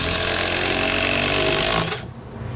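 A power tool drives screws into a wooden mailbox post, a loud steady whirring buzz that runs close and continuous, then cuts off abruptly near the end.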